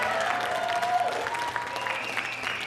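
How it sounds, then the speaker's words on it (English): An audience applauds a bassist at a jazz trio afternoon show, a steady wash of clapping heard from nearby and held at an even level throughout, with faint musical tones and voices underneath. "would you please give our great bassist here a big round of applause, Mr. Mike Aceta on contrabass."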